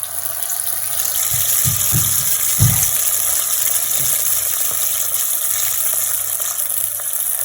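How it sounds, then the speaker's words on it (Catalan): Steady sizzling and crackling of jackfruit spring rolls frying in hot oil in a pan, continuous and close, with a few soft thumps and stirring noises. "Els deixem que es vagin fregint ben fregits."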